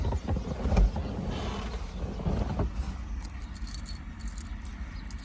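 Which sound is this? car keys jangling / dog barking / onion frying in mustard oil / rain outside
car keys jangling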